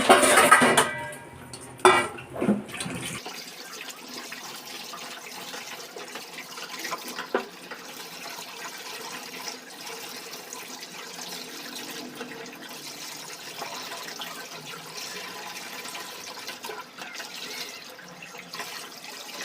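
A tap running as fish are rinsed in a home kitchen, with a burst of splashing and clattering at the start and then a steady, moderately loud stream of water pouring on alone.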